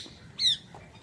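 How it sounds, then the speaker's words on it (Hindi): Parrots at Keoladeo National Park in Bharatpur squawk as the flock takes off, two sharp close shrill calls about half a second apart over faint background noise. "तोते उड़ गए सारे"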